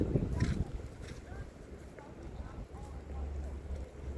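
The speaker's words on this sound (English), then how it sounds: "Do you guys hear the wind? It's so windy out." Cold, windy day outdoors with melting snow while fences are being fixed: gusty wind buffets the microphone in low rumbling bursts, strongest at the start, with faint voices in the background.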